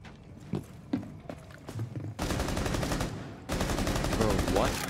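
Bursts of gunfire in the tactical shooter Rainbow Six Siege, sharp repeated shots loud and close, with a steady rattle of automatic fire running through the second half.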